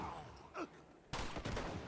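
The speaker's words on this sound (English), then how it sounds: "Just shooting shit and getting shit shot at you." Gunfire in Uncharted 2: Among Thieves, a quiet lull with a faint groan giving way to a sudden loud burst of rapid shots continuing to the end.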